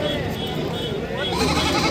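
Goats bleat amid a busy crowd, with people talking throughout and steady background noise at an outdoor Wednesday morning goat market in Honnalli, Karnataka.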